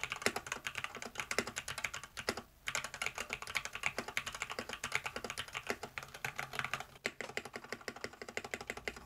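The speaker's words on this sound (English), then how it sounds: "very, very quiet switches, especially when they're lubed, and this is the sound test." Typing on an XVX M61 mechanical keyboard fitted with lubed quiet switches and foam, a steady rapid patter of soft, muted keystrokes close up, with one brief pause, and no talking.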